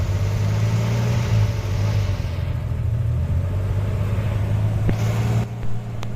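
A 1984 Daihatsu Hijet 1000 engine runs steadily with a low, even hum and rumble, close and continuous, easing slightly near the end with a brief click.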